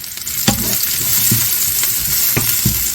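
Wide-cut green onions sizzling loudly in hot oil in a pan, a steady close-up hiss broken by a few scraping stirs and light clinks of the utensil, with no talking.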